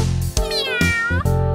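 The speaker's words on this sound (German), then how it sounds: "miau, miau." Cat meowing in a German children's song: several drawn-out, high, musical meows in quick succession, loud and close, over a steady backing beat.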